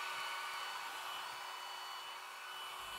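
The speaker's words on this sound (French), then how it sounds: "avec le sèche-cheveux ou séchoir, je ne fais qu'étaler la peinture blanche sur les bords" A hair dryer blows steadily on white acrylic paint during a Dutch pour, a continuous faint whooshing hum with an even tone that stays constant from start to end.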